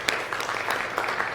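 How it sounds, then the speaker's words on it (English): Brief applause from a seminar audience honoring the speakers, a short burst of many hands clapping at moderate volume with no voices over it. "let's give one final round of applause for our speakers today"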